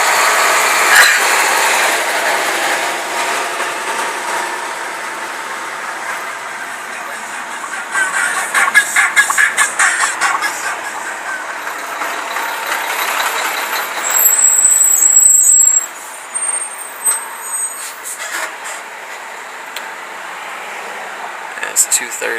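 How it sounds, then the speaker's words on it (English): City street traffic in Cicero near Chicago, with trucks and cars passing, engine rumble, a hiss like air brakes and fluctuating road noise over about twenty seconds, while people talk intermittently. "It's 2:30 and traffic's already crappy out here."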